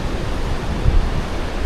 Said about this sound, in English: Surf waves!